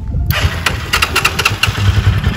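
A motorcycle's electric starter is pressed and the engine fires at once, settling into a loud, close, lumpy idle with a few thumps.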